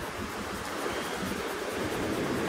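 Strong outdoor wind roars steadily across the microphone beside a house door, a dense, continuous rushing with no pauses and no voices.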